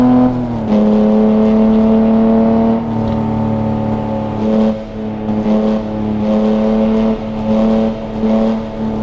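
A manual BMW F80 M3 engine in the Assetto Corsa racing game, its loud sustained drone holding steady then dipping and rising again with throttle changes, up close and without any talk.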